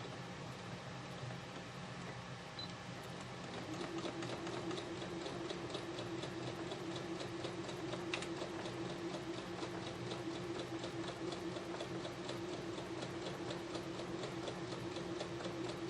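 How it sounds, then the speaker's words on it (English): A sewing machine stitches quilt fabric in a fast, even mechanical patter that starts a few seconds in and runs steadily throughout, close and moderately loud over a constant room hum. "let's take this over to the machine and let's stitch it"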